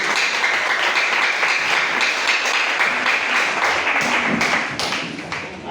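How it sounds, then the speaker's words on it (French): Congregation clapping for a sister at a church harvest celebration, a steady, fairly close wash of many hands that continues for several seconds and thins out slightly at the end. "On acclame ça pour la sœur de Dieu."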